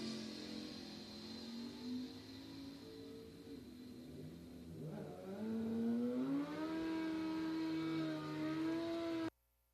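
An El Camino drag car launching down the strip at Byron Dragway, a distant engine tone that rises and climbs in pitch as it accelerates away, then cuts off abruptly.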